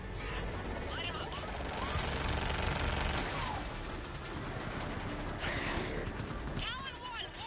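Fighter aircraft open fire on ground targets in the video game Mass Effect 3, giving dense, sustained automatic fire with crashing impacts and mechanical clatter, loud and continuous, while radio voices talk over it.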